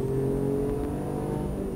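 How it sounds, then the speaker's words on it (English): A race car on a circuit approaching a corner, heard as a steady, close engine drone with a sustained tonal hum and slight shifts in pitch, with no voices. "to fourth gear, hard on the brakes, into the apex of north corner, let the car run wide"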